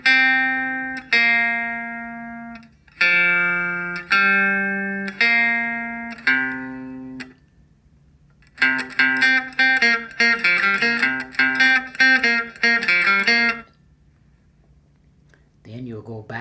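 Individual plucked notes of a blues octave riff ring out one at a time with pauses between, followed by a faster run of picked notes, bright and close.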